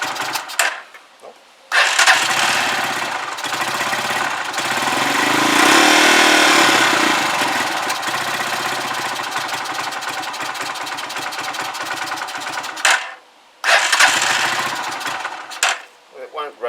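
A Huoniao HN125 motorcycle on half choke cranks and catches, then runs loud and close with a swelling rev that won't climb cleanly, cutting out and restarting a couple of times as people talk nearby.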